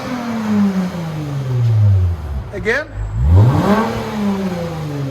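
A 2018 Lexus GS 350 with a 3.5L V6, dual exhaust and a muffler delete revs loudly nearby, rising and falling twice with a dip between the pulls, while people talk over it.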